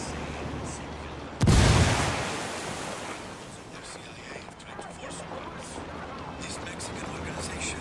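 A single grenade explosion in Ghost Recon Wildlands, a sharp loud blast followed by a fading rumble, set against steady ambient wind-like noise.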